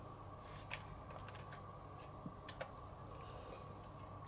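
Card number being typed on a computer keyboard, a few sparse, faint key clicks spaced irregularly over a low steady room hum, no voices.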